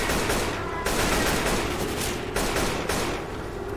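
AK rifle fire in Left 4 Dead 2, loud continuous automatic bursts close up, broken by two brief pauses, with no talk over it.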